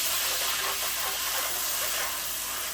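Broth poured into a hot pan after cooking chicken with butter and garlic, giving a loud steady sizzle and hiss that fills the whole stretch without a break.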